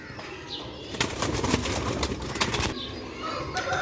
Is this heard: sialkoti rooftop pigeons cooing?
yes